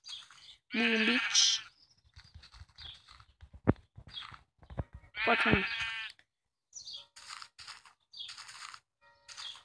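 Sheep in Minecraft Pocket Edition give two loud, wavering bleats amid clicks, thumps and a short chime. Someone speaks briefly and softly between them.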